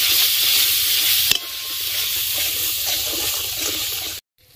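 Ground spice pastes of onion, cashew-poppy and ginger-garlic fry in a pan with a steady, loud sizzle and stirring scrapes, one sharp knock near the start, then an abrupt cut to silence just before the end.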